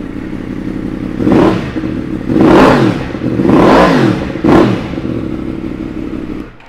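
A 2017 Yamaha MT-10 motorcycle engine, started cold, rumbles steadily at idle, then revs up sharply four times in a row, each rev rising and falling, close and loud.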